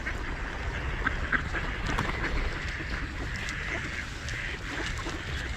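A flock of local ducks quacks and flaps close by in a dense, continuous outdoor din, with overlapping calls and wingbeats over steady background noise.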